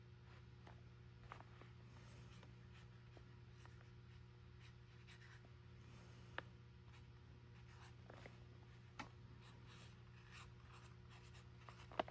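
A pen scratches across paper while a word is written in a junk journal, a faint close-up series of soft scratchy strokes and small taps over a low steady hum, with no talking.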